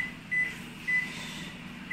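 Two short electronic button beeps from a convection microwave oven being set for baking cupcakes, evenly spaced about half a second apart over a soft steady hum.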